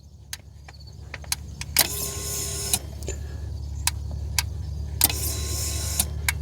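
A 1994 Jaguar XJ6 with a no-start fault has its fuel pump running, set off by a soldering gun held next to the crank sensor. A steady low hum holds throughout under sharp ticks and two bursts of buzzing electrical noise.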